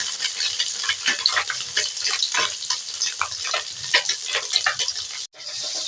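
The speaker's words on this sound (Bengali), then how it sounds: "মাছ উল্টে পাল্টে ভেজে নেবো" Small mourala fish frying in hot oil while being turned over, giving a steady, loud sizzle with crackling bursts throughout and a brief break near the end, with no talking.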